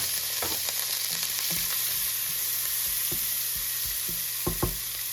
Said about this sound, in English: We're gonna get our onions in. I've already got them diced up.